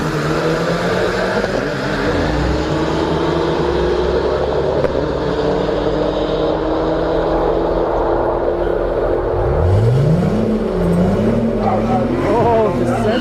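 Nissan Sentra with an upgraded turbo races down a drag strip, its engine droning loudly with rising revs and gear-shift sweeps, while a voice keeps talking over the din.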